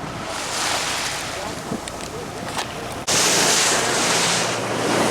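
Ocean swells and surf wash loudly around a deep-sea fishing boat off Morro Bay, with constant wind buffeting the microphone and a sudden jump to a louder, rushing roar midway.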